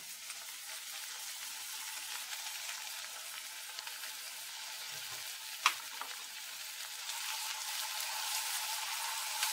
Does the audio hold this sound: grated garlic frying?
yes